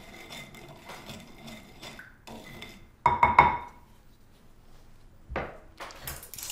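A spoon stirs red wine with coarse sugar and cloves on a stoneware plate, giving soft scraping and a few sharper clinks and taps in irregular bursts, close and moderately loud, with no talking.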